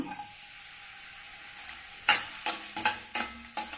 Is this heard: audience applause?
no